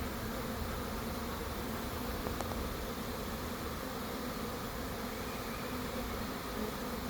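A swarm of bees flies and buzzes outdoors, a dense, even, continuous drone that holds steady without breaks.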